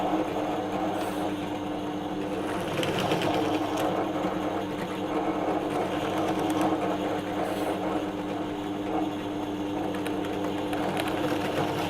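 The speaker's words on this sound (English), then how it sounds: "it's a whole lot easier just to get rid of them with the countersink" Power drill spinning a countersink bit into wooden box sleeves, giving a steady, continuous motor whine with a cutting rasp, close and unbroken throughout.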